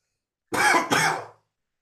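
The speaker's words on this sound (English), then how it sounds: "I breathe wrong and I cough." A single short, harsh cough in two quick bursts, close and loud, alone against silence.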